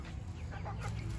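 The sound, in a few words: chickens clucking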